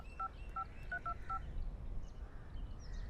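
A mobile phone keypad sounding a quick run of short, clear dialing tones, about five beeps in an uneven rhythm, followed by low background noise.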